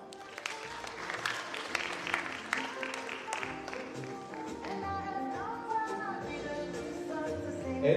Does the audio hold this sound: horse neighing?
no